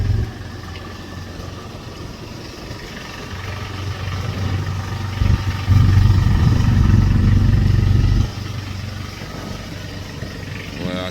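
A boat engine revs near the shore, a low rumbling drone that swells louder midway, holds a stronger roar for a few seconds, then eases back to a steady idle.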